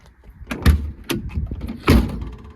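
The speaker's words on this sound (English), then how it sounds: "the door's shut well" Door of a VW Beetle with a freshly welded floorpan and heater channels swinging shut: several solid thunks, the heaviest near the end, close and alone with no talk.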